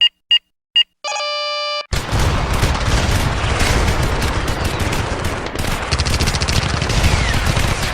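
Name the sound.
turret gunfire in the video game Star Citizen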